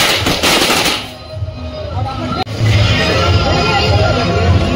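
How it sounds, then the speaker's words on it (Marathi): Firecrackers burst during a village Diwali celebration, a loud, near, continuous crackle with sharp bangs mixed into crowd noise and people talking. "प्रत्येकाच्या हातात फटाके."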